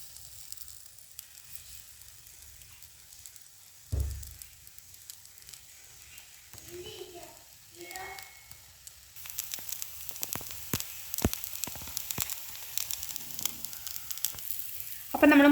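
A tapioca dosa cooks on a griddle and coconut oil is poured over it. A faint low hiss builds into a busier sizzle with scattered sharp crackles and pops in the second half.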